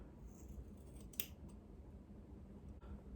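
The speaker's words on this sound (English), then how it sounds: "I'm just gonna cut a little bit" A single faint snip of scissors cutting 4c/4a curly hair during a home DIY DevaCut, set against quiet room noise.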